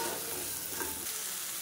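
Tomatoes sautéing in a pan, with a continuous dense sizzle and some stirring, heard up close and alone.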